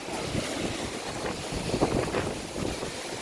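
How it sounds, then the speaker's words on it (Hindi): Strong storm wind gusting around an old house in Begusarai, a steady broadband roar with swelling gusts and no voices. "काठी देखिए यहाँ पे उलट चुका है तेज हवा आंधी के कारण।"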